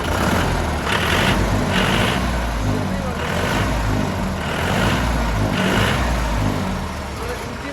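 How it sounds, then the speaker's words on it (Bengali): The engine of a newly delivered truck runs close by with a steady, loud rumble and slight pulsing swells, under occasional talk. "সাউন্ডটাই দেখি আপনারা বুঝতে পেরেছেন পুরো ইঞ্জিন সাউন্ড"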